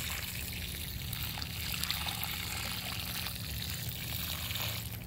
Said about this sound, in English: now all I need to do is water them